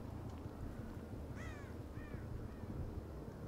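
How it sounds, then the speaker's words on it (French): Crows caw in the video game Dead by Daylight, with two or three short, harsh, fairly distant calls over a low steady background hum. "J'entends des corbeaux là-bas."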